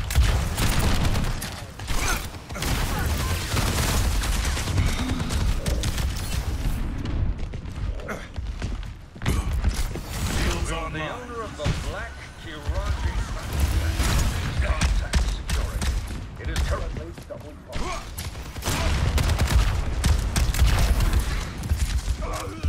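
Rapid spam shooting in the Overwatch game, a dense, continuous stream of gunfire and mechanical clatter with booms and a brief lull, heard loud and close.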